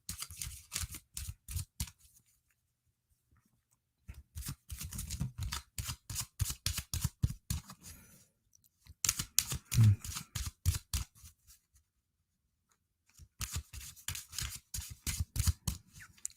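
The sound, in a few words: shuffling tarot cards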